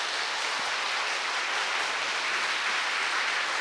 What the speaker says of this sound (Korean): 우리 힘찬 박수 부탁드리겠습니다